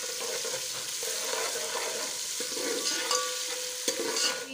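Masala paste for egg and chickpea curry is stir-fried in a pan, a continuous crackling sizzle broken by repeated scraping strokes of a spoon, close and steady with no speech.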